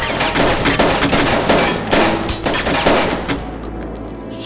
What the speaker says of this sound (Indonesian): kini, kita diperlihatkan tentang baku tembak serius yang dilakukan oleh pasukan sipil melawan para militer